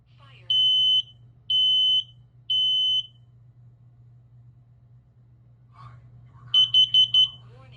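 Home smoke alarm under test: three sustained high-pitched electronic beeps in a steady rhythm, a pause, then a faster burst of four short beeps, over a constant low hum.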